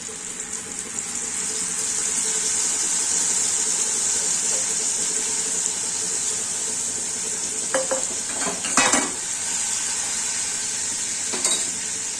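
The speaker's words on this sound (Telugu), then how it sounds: "ఎర్రగా వేయించుకోండి ఎల్లిపాయలు వేసుకొని కరివేపాకండి" Onions and curry leaves sizzle in hot oil with a steady, close hiss, while stirring scrapes and clinks of a pan come through toward the end; no one speaks.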